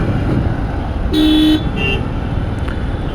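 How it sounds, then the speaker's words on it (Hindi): Steady city road traffic rumble with a single sustained car horn blast midway and a brief second honk shortly after, fairly close. "भाई ट्रैफिक बहुत है यार,"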